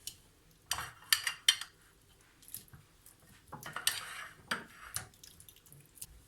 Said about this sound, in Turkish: Şimdi avokadolarımızı çatalla ezeceğiz.